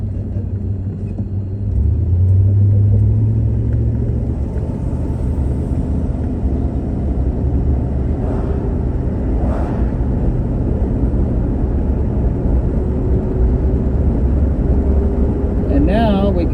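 A 1973 Chrysler New Yorker Brougham barn find, brake calipers due for replacement, driving out of town: a steady, loud engine and road rumble holds throughout with no pauses.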